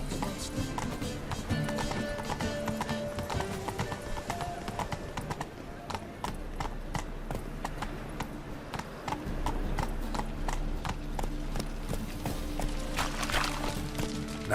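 Horse galloping in The Witcher 3, rhythmic hoofbeats clip-clopping steadily under game music and ambience, with an occasional whinny.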